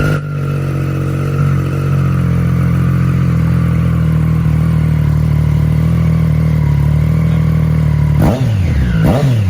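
A second-hand superbike's engine holds a loud, steady, close-up idle-to-rev drone with a high whistling whine layered over it, then snaps through a couple of quick sharp throttle blips at the end.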